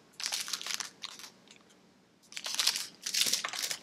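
Someone bites into and chews a Simply Wholesome blueberry oatmeal bar, with two clusters of close, crisp crunching bursts separated by a short quiet pause.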